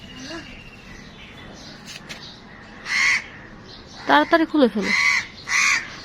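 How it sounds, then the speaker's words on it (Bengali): Crows caw in harsh, repeated calls at a rooftop pigeon cage, several loud bursts rising over the ambience while a person speaks briefly. "কাক ডাকতেছে।"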